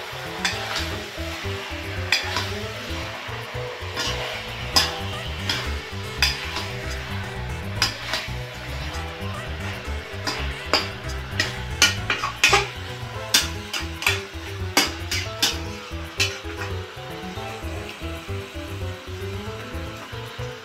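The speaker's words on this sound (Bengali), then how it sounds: "নাড়াচাড়া দিয়ে তারপরে ঢাকা দিয়ে দেবে একটু সময় সিদ্ধ হওয়ার জন্য।" Chicken kosha, a spiced chicken curry, stirred in a pan over heat: continuous sizzling with frequent scraping and clinking of a spoon against the pan, close and busy throughout, no speech.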